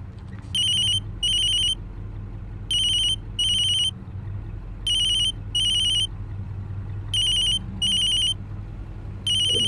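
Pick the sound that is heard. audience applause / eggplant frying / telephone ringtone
telephone ringtone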